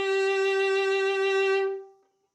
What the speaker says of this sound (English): If you put it closer to the bridge and put some more weight on it, you can get quite an intense and loud sound.